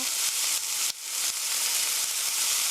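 Onions sautéing in a pan, a steady bright sizzle with faint crackles and a soft scrape of stirring, close and continuous with no talking.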